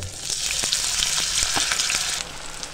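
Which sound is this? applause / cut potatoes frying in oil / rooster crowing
cut potatoes frying in oil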